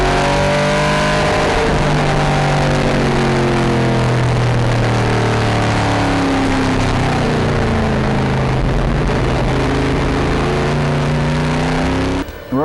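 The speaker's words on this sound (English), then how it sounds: "Speeds for these vintage cars that you're watching today can reach" Vintage race cars roar around the Road America circuit, several engines close and loud with rising and falling revs as they accelerate and pass in a continuous overlapping stream, without any talking.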